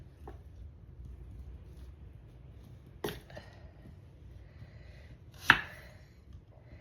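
A knife cuts an onion into petals on a cutting board, giving two distinct sharp chopping knocks a few seconds apart, plus a fainter earlier tap, over quiet room background.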